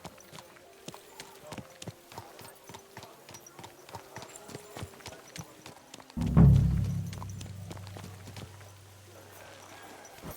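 Horse hooves clip-clop at a steady walking rhythm in the video game Kingdom Come: Deliverance II, followed by a heavy low thud and a lingering rumble, with faint talk in the background.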